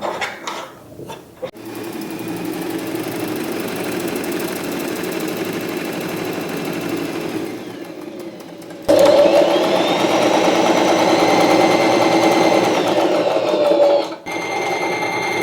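A Singer sewing machine stitches cloth, its motor whirring in two long sustained runs with a steady mechanical hum, the second louder and higher-pitched, heard close up with no speech.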